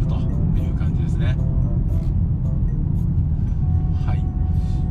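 A Jeep Patriot's engine hums low and steady in a moving car, a constant rumble of road and engine noise under someone talking throughout.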